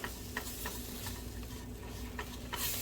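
Flour stirred into a sizzling zucchini soup base in a pan, a steady soft frying hiss with a few scraping stir strokes, close and alone.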